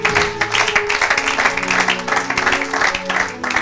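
A church congregation applauds in a brisk, dense burst of clapping, close and lively, with voices mixed in over the short stretch.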